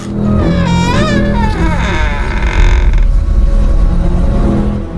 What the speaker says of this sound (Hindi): अचानक से घर का दरवाजा खुला।